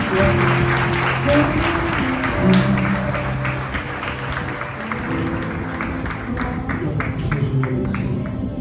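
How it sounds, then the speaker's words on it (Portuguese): A church congregation applauds in worship, steady dense clapping filling the room for the whole stretch, with sustained tones and some voices mingling underneath. "Convido você a aplaudir ao Senhor Deus."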